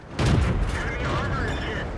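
A tank cannon fires in a World of Tanks battle with a T21 light tank, one sharp, loud blast with a booming low-end tail. A radio-style game voice speaks over the shot.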